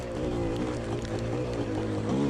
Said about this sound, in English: You can hear it bog again then slightly, just like it was it's just running a bit lean